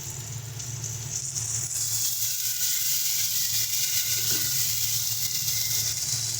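Water poured into spice paste frying with softened tomatoes for a Bengali fish curry, a loud steady sizzle and hiss that swells and holds throughout with a low bubbling hum beneath.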